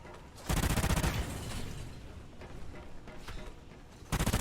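Video game gunfire with explosive rounds, fired in a dense rapid burst that opens loud, fades to scattered distant pops, then picks up again in a second sharp volley at the end.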